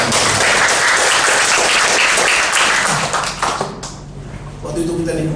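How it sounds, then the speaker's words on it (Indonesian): A church congregation claps loudly in a dense burst that tapers off after a few seconds, giving way to a voice and faint background sound. "Kita beri tepuk tangan."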